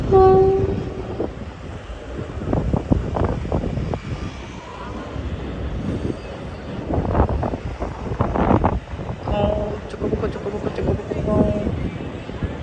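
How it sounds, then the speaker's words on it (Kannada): A passing train gives a loud, continuous rumble of wheels on rails with rhythmic clatter, mixed with wind noise, and a person talks over it at times. "ಟ್ರೈನ್ ಹೋಗ್ತಾ ಇದೆ, ಏನು ಮಸ್ತಾಗಿ ಕಾಣಿಸ್ತಾ ಇದೆ"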